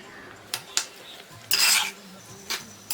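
A spoon stirs ripe plantain into pineapple pachadi in a pot, producing a few sharp clinks and scrapes against the metal. One longer, louder scrape comes in the middle, close up with quiet pauses between strokes.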